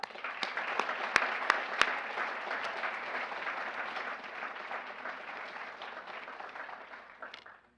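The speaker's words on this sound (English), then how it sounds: "so let's give them another applause" Audience applause at a university speech showcase, a dense, sustained round of clapping that carries on for several seconds, with a few sharp, close claps standing out early before the sound tapers off at the end.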